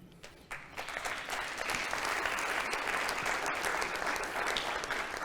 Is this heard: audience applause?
yes